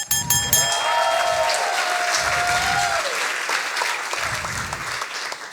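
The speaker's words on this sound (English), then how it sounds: "Big applause for Anna." An audience at a science slam applauding, dense clapping that holds steady and loud throughout before easing slightly at the end.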